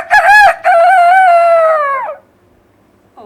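A boy imitating a rooster with his voice, giving one loud, close cock-a-doodle-doo crow that begins with short choppy notes and ends in a long held call, then silence.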